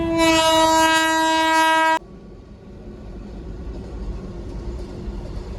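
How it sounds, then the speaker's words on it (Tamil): A train sounds a long, loud horn blast while passing a railway level crossing, then cuts off and leaves the steady rumble of the cars rolling by; no voices. "ட்ரெயின் கிராசிங் இருக்குது, அதுக்காக வெயிட் பண்ணுறோம்."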